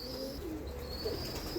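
A young pigeon coos softly outdoors on a windy day, giving a few faint, low, short calls over a quiet breezy background.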